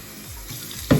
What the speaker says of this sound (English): You guys can see how hot the water comes out of my drain